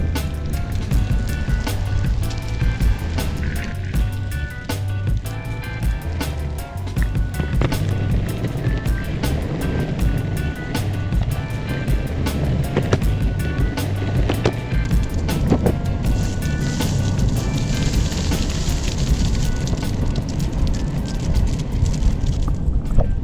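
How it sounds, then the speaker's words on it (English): An Exway X1 Pro electric skateboard ridden outdoors, its nearly silent motor lost under steady wheel roar on pavement and heavy wind noise buffeting the microphone throughout, with no speech. "Just so weird riding a board that is silent."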